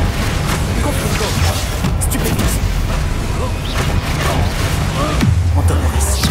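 Confringo fire spell explosions in Hogwarts Legacy, cast during a fight: several deep booms and crashes land within a steady, loud roar of battle noise, with voices talking over it.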